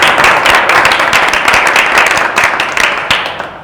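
Finalist groups of a youth talent contest applaud themselves on a TV set, a dense burst of close, continuous clapping for a few seconds that fades slightly at the end.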